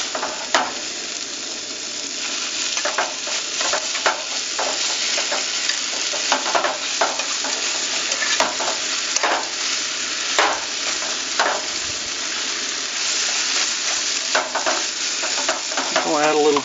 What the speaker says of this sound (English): I like the peanuts, so I add them. And I'm basically just, you know, letting this fry up a little bit.